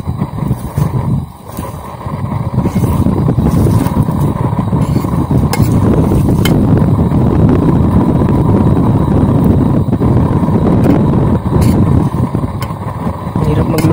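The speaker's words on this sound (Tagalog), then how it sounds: "ang lakas ng hangin" Strong wind blows outdoors at a rice harvest while food is cooked in the open, a loud, steady low roar of gusts buffeting the microphone with brief dips and surges.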